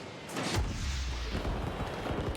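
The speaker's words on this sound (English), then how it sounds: "the fireworks and the classic celebration from Achieves I didn't see until the very end there" A Rocket League goal explosion with fireworks erupts in a heavy booming burst followed by a rumbling crackle of bangs, loud and close, with no talking over it.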